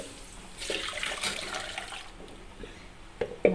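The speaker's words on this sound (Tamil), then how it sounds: "வடிகட்டிய தண்ணி இப்போ மறுபடியும் இதில் கடைஞ்சி இதில் ஊற்றியாச்சு." Strained drumstick-leaf soup water splashes and gurgles as it is poured back into a pot for a couple of seconds, then thins to trickles and a few small knocks.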